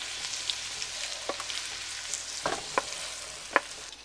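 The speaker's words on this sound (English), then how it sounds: "Put the vegetables and the meat in." Vegetables and meat frying in a pan with bacon grease, a steady crackling sizzle punctuated by a few sharp spatter pops and light stirring, close and moderately loud with no talking.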